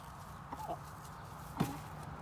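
Hens clucking near a backyard coop as a flock is being integrated, with a couple of soft, brief clucks at moderate distance over a low steady background.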